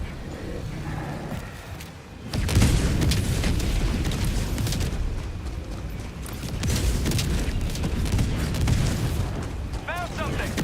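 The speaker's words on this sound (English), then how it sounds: "Firing orbital barrage." Orbital barrage strikes in the video game Helldivers 2 boom repeatedly after a quiet opening, a sustained rumble of loud blasts that rises and swells through most of the stretch, with a faint voice underneath.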